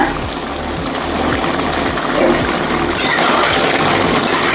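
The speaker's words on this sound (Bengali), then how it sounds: "আমি জল দিয়ে দিলাম" Water pours steadily and loudly into a cooking pot of potato and taro curry with fish, a close, continuous gush and trickle that runs without a break.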